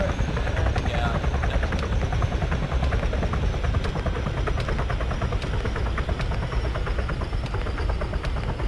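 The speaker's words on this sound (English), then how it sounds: "Our chopper is down. Land the chopper" Helicopter rotor in the Arma 3 video game drones loud and steady throughout with a rhythmic thumping, joined by faint scattered gunfire-like cracks and people talking over it.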